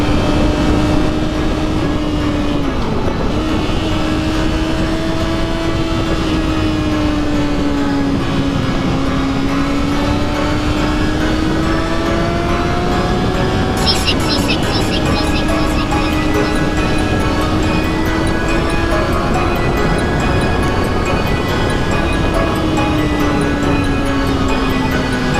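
A Yamaha R6 sport motorcycle engine runs steadily after sitting unused for several days, its tone drifting up and down in gentle revs, loud and close throughout with no talking.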